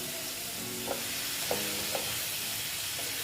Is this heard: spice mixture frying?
yes